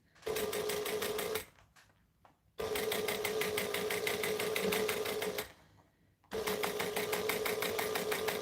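A sewing machine top stitches fabric for a piping project in two long, fast, rattling runs, separated by a brief quiet pause, then starts again, close and clear.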